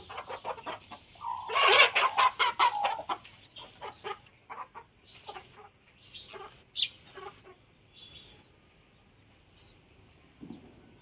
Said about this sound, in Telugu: స్పీడ్ ఫైటర్ బ్లడ్ లైన్ పచ్చకాకి 9 నెలలు.